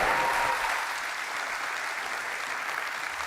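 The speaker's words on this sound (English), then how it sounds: "let's give a big round of applause for all these students." An audience at a GitHub Universe keynote applauds for students, a dense, steady wash of clapping that starts strong and eases slightly while holding on without talk.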